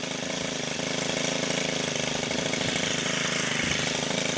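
Stihl FS 90 R 4-Mix weed eater running on fresh gas, a loud, buzzing small-engine drone with a rapid pulsing beat, steady and close throughout.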